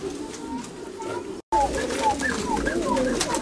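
Trained pigeons from a Bulgarian pigeon breeder's loft coo softly and repeatedly, in warbling, rolling calls close by, interrupted by a brief silent gap, with faint voices in the background.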